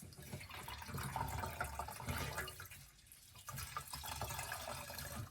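Running water from a faucet pours steadily onto a sponge being dampened for faux marble painting, a continuous close splashing hiss with a brief dip midway.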